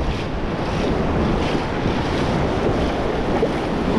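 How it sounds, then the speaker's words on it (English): Ocean surf rolls onto a beach at Oceano Dunes in a steady wash of broadband roar, buffeted by heavy wind noise on the microphone, with no talking. "Come and have fun in the surf."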